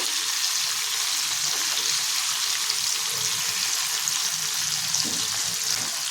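Chicken joints for chicken mandi sizzle steadily in hot oil in a pan, making a continuous close frying hiss with faint stirring clinks and no talk.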